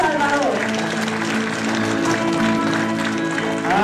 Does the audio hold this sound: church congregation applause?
yes